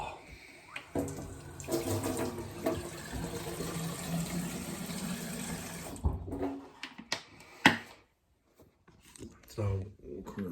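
A kitchen tap runs to fill a glass, steady rushing water for about six seconds, then brief clatter and quieter handling sounds, with a voice talking over the flow.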